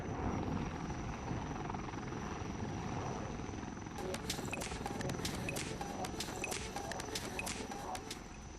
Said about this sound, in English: you can see the Rafale performing maneuvers effortlessly with even the anti-gears down